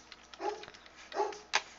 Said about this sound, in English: Sorry if you hear those dogs in the background.